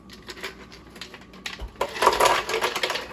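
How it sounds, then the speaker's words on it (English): Ice cubes drop into a blender jar already holding about half a cup of water for a green smoothie, giving a burst of sharp clattering knocks and rattles that starts faint and grows louder midway, with no talking. "And I'm gonna add my ice."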